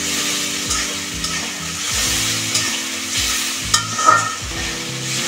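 Spice masala stirred and sizzling in a pan for a rohu fish curry with potato and tomato, a steady close frying hiss with repeated scraping strokes of the spatula, and no talking.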